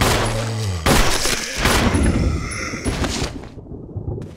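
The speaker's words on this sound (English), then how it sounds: "Let's see if we can shoot this guy from here." Gunshots in Resident Evil HD Remaster: a few loud, sharp reports fire in quick succession at close range, with thuds and impacts between them before they trail off into quiet.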